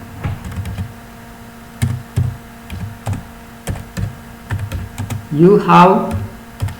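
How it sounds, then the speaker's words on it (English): A computer keyboard clicks in short, irregular bursts while entering an error alert in Microsoft Excel, and a person speaks briefly near the end over the keys. "Okay, now I am typing some error alert here."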